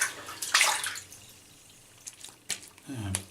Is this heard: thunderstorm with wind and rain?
no